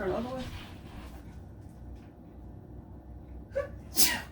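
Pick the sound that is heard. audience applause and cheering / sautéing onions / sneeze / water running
sneeze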